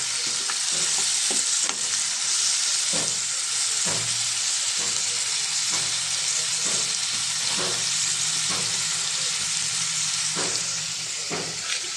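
Raw prawns sizzle in a pan of gongura curry as they are stirred, a steady loud frying hiss with periodic scraping and clinking strokes of the spoon throughout, no voices.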